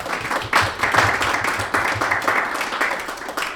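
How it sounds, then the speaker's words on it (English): An audience gives a round of applause for the curators of an exhibition on housing and historical preservation in Indigenous communities, dense steady clapping close by with rhythmic surges throughout. "We want to go ahead and give them a round of applause for their work."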